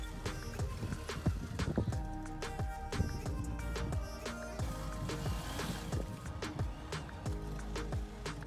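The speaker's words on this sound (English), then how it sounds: "this guy's washing a horse." A horse being washed, hooves clopping on hard ground amid steady outdoor background noise, with a few scattered knocks and splashes, moderately near, in Nicaragua.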